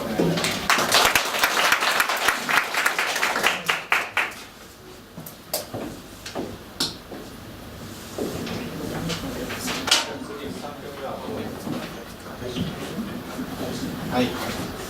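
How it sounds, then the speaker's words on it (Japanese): Applause from an audience at a Japanese school presentation event, a dense burst of clapping in the first few seconds that thins out to scattered claps and thumps, with talk and room noise continuing underneath. "じゃあもう一度拍手をお願いします。"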